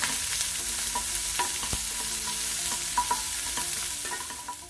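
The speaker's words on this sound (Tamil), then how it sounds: "2 காஞ்ச மிளகாய், கொஞ்சமாக கருவேப்பிலை. வெங்காயம் கொஞ்சம் வதங்கட்டும்." Onions with two dried red chillies and curry leaves sauté in a hot pan, giving a steady close sizzle broken by occasional spatula taps and scrapes, with no voices.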